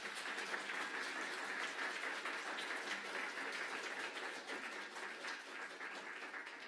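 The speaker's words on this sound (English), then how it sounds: "So let's give them one more big round of applause." A seated audience at an evening interfaith forum gives a sustained round of applause, a dense, even wash of clapping that holds steady at moderate loudness for several seconds with no voices over it.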